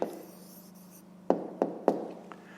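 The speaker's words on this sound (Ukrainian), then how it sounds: "Пишемо відповідь." Up close, a pen writes an answer on paper with a faint steady scratch, then three quick firm taps of strokes near the end; no talking.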